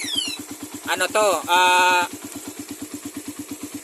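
A carbureted Raider motorcycle engine idles just after a cold morning start, with an even, rapid ticking pulse throughout; a brief voice-like sound rises over it midway.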